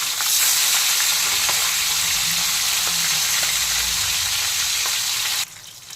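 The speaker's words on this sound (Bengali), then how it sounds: "মাছগুলো উল্টে নেব।" Katla fish frying in white oil and being turned over in the pan, a continuous loud sizzle with scattered pops, the sizzle dropping in level near the end.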